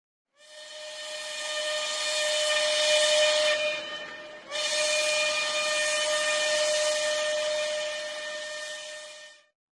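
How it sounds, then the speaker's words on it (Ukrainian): Steam train whistle giving two long sustained blasts, the first swelling then cutting briefly before the second; loud, close and alone, with a hissy, harmonic-rich tone. "а це звук потяга."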